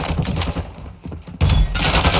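Gunfire in Warzone 2 during a Resurgence match on Ashika Island: dense bursts of rapid shots and thuds fill the clip, easing briefly midway before a louder, sustained barrage resumes close by.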